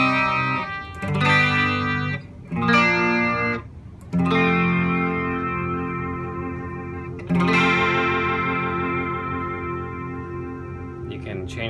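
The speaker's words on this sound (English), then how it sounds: "You turn it on, and right off the bat you see that the LED is indicating the rate of the effect." Guitar played through a BYOC analog chorus pedal rings out in sustained chords and notes with a shimmering, wavering modulation, loud and alone with no talking.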